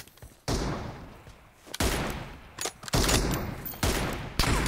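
Gunfire in a video game, several loud bursts of rapid shots in quick succession with short gaps between them, close and dominant, no talk.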